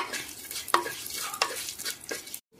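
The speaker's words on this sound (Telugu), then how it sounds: "ఈ మాత్రం అల్లం ముక్క ముక్కలు చేసేసాను, ఇందులో వేస్తున్నాను" Chopped ginger pieces sizzle steadily in hot oil for a rasam tempering, with a few sharp stirring scrapes against the pan, close and fairly quiet, ending abruptly.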